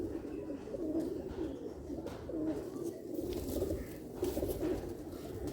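A pigeon kept by a pigeon fancier coos in low, repeated throaty rolls at close range, the calls pulsing steadily against faint background noise, with nobody talking.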